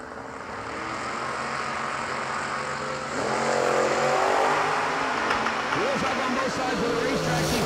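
Engines of a 1996 S10 pickup and a Fox Mustang roaring and rising in pitch as they launch down a drag strip, loud revving that builds midway, with an announcer talking over it.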